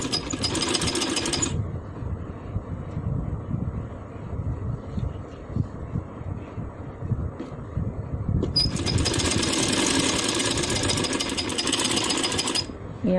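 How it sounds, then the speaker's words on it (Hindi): A sewing machine runs in fast, buzzing bursts while stitching the side seam of a handmade baby boy's shirt, loud and close, with a pause filled by a person talking before the motor whirs again. "वैसे ही हम इसकी दूसरी साइड से भी जो है वो सिलाई लगाएंगे"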